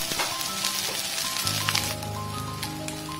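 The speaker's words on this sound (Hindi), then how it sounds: "ये नूडल्स हम इसमें डाल देंगे और साथ ही हम सभी सॉसेस भी ऐड करेंगे" Garlic noodles and vegetables fry in a hot pan, a loud continuous sizzle with crackling spatters and a few utensil knocks, close up and without speech.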